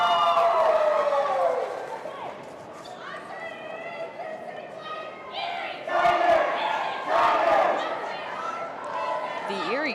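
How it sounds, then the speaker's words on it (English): A volleyball crowd in an Erie vs. Windsor match grows loud during a late-set timeout, with shouting, cheering and chatter swelling in waves over ten seconds, and voices mixed through the roar. "crowd is getting hyped up"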